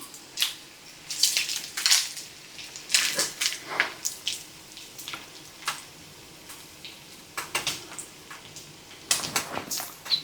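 Intermittent clinks and scrapes of cooked bacon being lifted from a skillet with a utensil, irregular and moderately quiet, with no talk.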